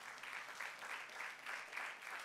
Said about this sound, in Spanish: le pueden dar un aplauso fuerte a nuestro Dios